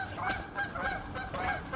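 A male duck gives a series of three or four honking calls at a moderate distance, coming in an uneven rhythm over faint background noise.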